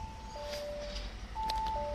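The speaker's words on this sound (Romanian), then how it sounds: "Da, știm că e ușa deschisă. Nu mai țipa la noi mașină." A new Audi Q5 sounds its door-open warning chime inside the cabin, a pair of clear electronic tones that repeats twice over a low engine hum.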